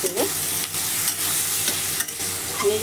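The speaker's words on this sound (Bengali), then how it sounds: "নেড়ে চেড়ে আমি ভেজে নিয়েছি" Vegetables fry with turmeric and garam masala for veg pulao, a constant loud sizzle broken by repeated scrapes of a spoon stirring the pan, with no voices.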